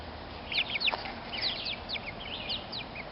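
Silver-laced Wyandotte chickens in a backyard flock, giving short, faint clucks and higher chirpy calls scattered across a few seconds against a soft hiss of background noise.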